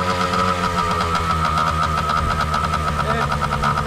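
A motorcycle engine recovered from a rubbish bin runs roughly and jerks under throttle, a close, uneven rumble with pulsing surges while people talk over it.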